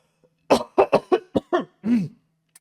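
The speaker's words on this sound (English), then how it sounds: "I felt a cough and it was about to get out." A person coughs in a quick series of six or seven harsh bursts, close and loud, ending in a longer throaty cough.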